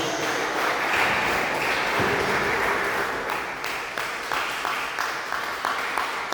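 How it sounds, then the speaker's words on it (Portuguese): A church congregation claps together in steady, sustained applause, dense and fairly loud, gradually thinning toward the end with a few scattered claps. "dê uma salva de palmas bem alegre para Jesus"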